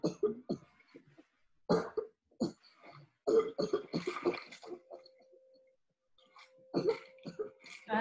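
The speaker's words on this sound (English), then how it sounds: "Too real coughing." Harsh, raspy coughs in a horror short film come in several close bursts separated by pauses, with strained throaty sounds and breathing between the fits.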